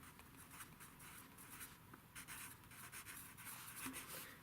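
A pen writing on a fabric kit swatch sheet, close scratchy strokes in short irregular bursts, steady and quiet with no talking.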